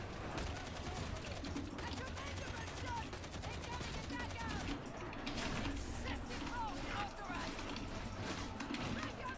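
Enemy gunners in the co-op shooter Darktide unleash continuous rapid automatic gunfire, a dense steady barrage under overlapping voices talking.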